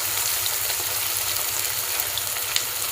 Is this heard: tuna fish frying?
yes